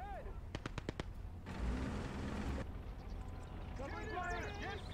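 Artillery and gunfire in a World War era conquest video game: a quick run of sharp gunshots, then a sustained roaring barrage of heavy fire lasting about a second, with a voice talking over the later battle noise.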